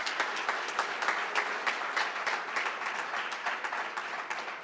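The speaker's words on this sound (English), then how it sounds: "Let's give a round of applause for CBS Sports." Audience applause at an HBCU All-Stars awards celebration during college basketball's Final Four weekend, a steady wash of many hands clapping that holds for several seconds and then begins to taper off.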